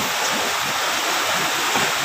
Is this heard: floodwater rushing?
yes